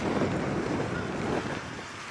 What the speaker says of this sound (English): Excuse the wind today, it's very windy.